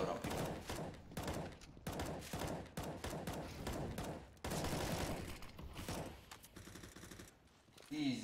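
Rapid bursts of automatic gunfire from a Counter-Strike match on the Inferno map, loud and nearly continuous, with more distant shots and game effects mixed in.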